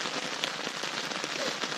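Heavy rain drums steadily on a tent during a rainy Colorado Trail thru-hike campsite setup, a dense, continuous close patter with scattered sharper drops and no voices.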